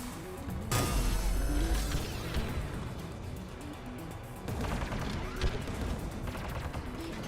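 Turret gunfire from the video game Mass Effect 3, heard as a loud, dense burst of shots and crashing impacts with a deep boom near the start, continuing in a churning barrage and swelling again midway.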